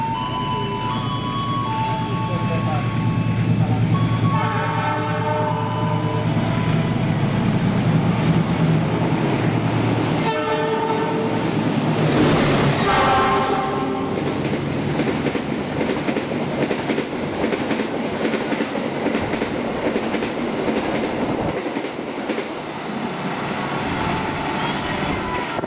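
An Argo Laut passenger train passes through a station, its rumble building to a loud rush with rhythmic clickety-clack of wheels and a brief horn-like tone mid-pass, then fading away.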